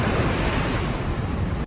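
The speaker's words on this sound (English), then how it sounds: "there is a storm and there are dangerous waves" Stormy open ocean with dangerous waves around a raft, a loud continuous roar of surf and wind that fills the whole clip and then cuts off abruptly at the end.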